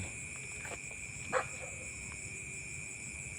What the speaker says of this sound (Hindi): कुत्ते आ गए,